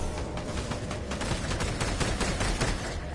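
Rapid automatic gunfire in a Fortnite match, a dense, continuous volley of shots filling the whole stretch at close range with no talking.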